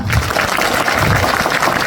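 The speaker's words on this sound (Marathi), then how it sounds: "आता जोरदार टाळ्या वाजवा" A village crowd at a Jayanagar gram panchayat gathering claps hard and steadily, a dense wash of hand claps that holds at full strength for the whole stretch.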